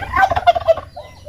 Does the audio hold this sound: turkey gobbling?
yes